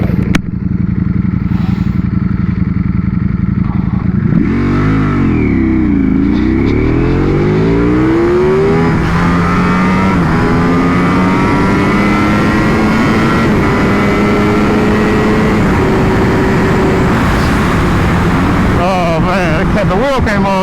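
Motorcycles launching and racing down a drag strip, one a 600cc sport bike, their engines roaring loud and close with rising, sweeping revs through the gears, a heavy continuous drone that fills the whole stretch.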